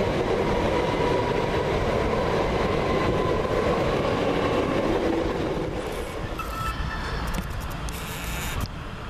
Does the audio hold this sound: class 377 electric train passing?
yes